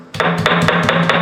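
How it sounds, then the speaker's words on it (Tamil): Small native garlic cloves are pounded coarsely in a kitchen, with about five quick, evenly spaced thuds close by and no talking. "இதை கரகரப்பாக இடிச்சு எடுத்துக்க போகிறாங்க"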